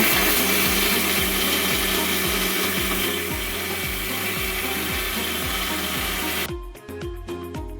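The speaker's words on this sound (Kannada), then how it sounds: "ಮಿಕ್ಸಿ ಜಾರಿಗೆ ಸೇರಿಸ್ಕೊಂಡು ಸ್ವಲ್ಪನೇ ನೀರು ಹಾಕಿ ನುಣ್ಣಗೆ ರುಬ್ಕೋಬೇಕು" A mixer grinder whirs loudly and steadily with a rhythmic churning rattle, grinding soaked ragi with a little water, then cuts off near the end, leaving brief clatters.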